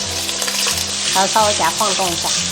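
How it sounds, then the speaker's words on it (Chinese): Tofu sizzles in hot oil in a pan over medium-low heat, a steady crackling fry with brief rattles as the pan is shaken, while a voice speaks briefly over it. "然后下入豆腐，中小火煎"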